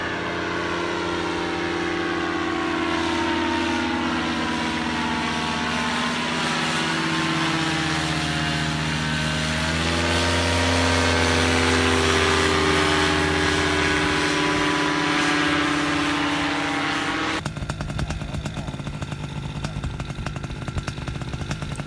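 A paramotor's propeller engine drones loudly and close as it makes a flyby on landing approach, the pitch shifting with a Doppler sweep as it passes, then cutting to rough wind buffeting.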